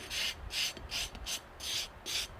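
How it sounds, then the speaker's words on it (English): Wet sanding pad smoothing the bottom of a pottery piece in a hot studio: six rhythmic abrasive rubbing strokes, close and alone, each a soft raspy swish with brief pauses between. "you just take your wet sanding pad"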